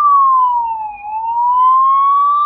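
A siren on a Latur Municipal Corporation fire and emergency service vehicle sounds during a Republic Day parade in Latur. The loud, close wail dips and rises again in one smooth sweep, with no voices.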